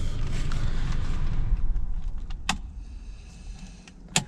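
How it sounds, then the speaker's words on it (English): A Peugeot SUV engine rumbles at idle close by, then dies away into quiet after a couple of seconds, followed by a few sharp clicks and a brief rattle. "I'm just going to shut the vehicle off"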